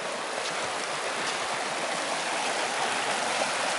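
Floodwater pours down a driveway like whitewater, a close, continuous rushing roar with no breaks.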